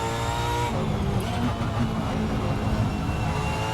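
A supercar engine screams at high revs on a racing track, a loud, sustained mechanical howl with rising pitch through upshifts, close and dominant with faint tire noise beneath.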